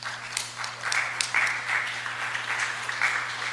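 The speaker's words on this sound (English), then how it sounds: "It's the first time anyone has clapped for me in this room." Audience applause in a city planning committee meeting room, a steady patter of clapping from a modest crowd lasting a few seconds, heard over a faint electrical hum.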